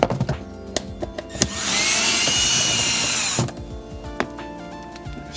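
A power driver whirs in one loud, sustained burst, taking out a T20 Torx screw on interior trim in a Lexus LX. Clicks and small handling knocks come before and after it.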